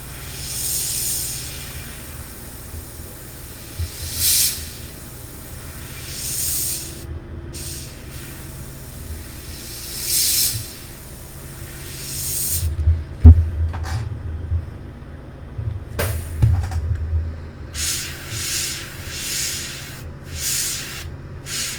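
An airbrush sprays model paint in soft, repeated hissing bursts of varying length, with low background rumble and faint handling noises between bursts, fairly quiet and without talk.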